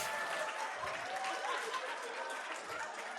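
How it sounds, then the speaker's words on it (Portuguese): An audience claps for a volunteer at a motivational talk, a dense continuous patter of applause with some crowd murmur and faint chuckling mixed in. "Salva de palmas para ele!"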